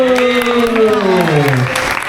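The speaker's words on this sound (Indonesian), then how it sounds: "Tepuk tangan dulu." Applause from an audience at an Indonesian film event, a steady wash of clapping mixed with loud voices and cheering throughout.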